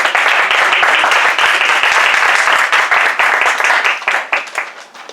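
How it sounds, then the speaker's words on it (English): A meeting audience gives a round of applause for all the speakers, dense steady clapping close by that thins out and fades toward the end. "give a round of applause to all our speakers"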